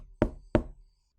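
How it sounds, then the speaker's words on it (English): Two firm knocks on a door or table, close and sharp, evenly spaced about a third of a second apart, followed by quiet. "I'm gonna be bold and I'm gonna knock."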